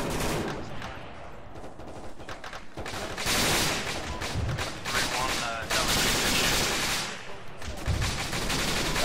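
Gunfire in the Arma 3 video game as a squad opens fire during a foot assault: dense bursts of automatic and rifle shots overlap in rapid volleys, loud and sustained, with brief lulls between barrages.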